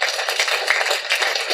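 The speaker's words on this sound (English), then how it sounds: "please give him a round of applause" Brief, dense burst of audience clapping for speaker Ryan Nickel at a talk on low-cost ways to find and close deals, steady and fairly close throughout.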